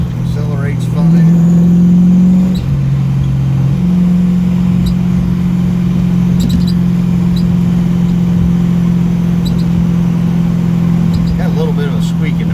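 A car fitted with Edelbrock Proflow4 fuel injection accelerating, its steady mid-pitched engine drone rising in pitch briefly then holding a smooth, even tone throughout, close and loud, with someone talking over it.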